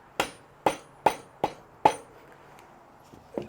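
Five sharp, ringing metal blows in a steady rhythm work loose a nut on a Suzuki LT250R ATV axle, followed by a pause and two lighter knocks, close and clear with no talk.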